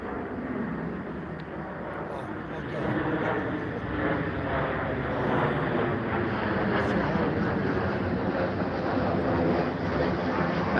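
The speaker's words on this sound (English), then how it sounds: "That's a really low plane." A low-flying airplane passes overhead outdoors beside the Fairfield County Infirmary, a steady broad engine roar that swells slightly and holds loud for the whole stretch, with some wind buffeting and voices faintly underneath.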